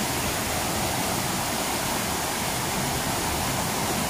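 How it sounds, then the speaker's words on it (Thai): Water pours through an open dam spillway outlet at a lower Mae Ping diversion dam, a dense, steady, loud rushing roar that continues unbroken throughout with no voices. "ช่องนี้เปิดให้ระบายน้ำให้น้ำไหล"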